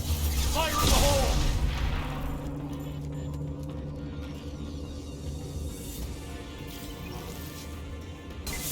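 A grenade explodes in Mass Effect 2 with a single heavy boom near the start, then fades into a low, lingering rumble of battle ambience.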